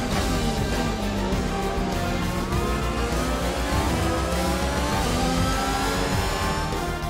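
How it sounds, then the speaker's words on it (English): Ferrari Formula 1 car in the F1 2021 video game rolling into parc fermé after the United States Grand Prix, a steady loud engine drone with shifting harmonics throughout, no talking. "Here's our winner, pulling their Ferrari into Parc Fermé."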